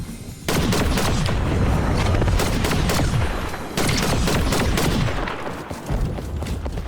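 Rapid bursts of automatic gunfire in the video game Fortnite crackle almost nonstop, loud and close, with a brief pause midway before the shooting resumes.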